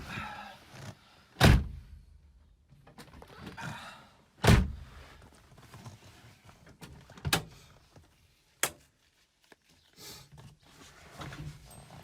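A Peugeot 504 being entered, with several heavy thumps from the car's doors shutting, two loud close slams followed by softer knocks and faint rustling of someone settling into the leather interior.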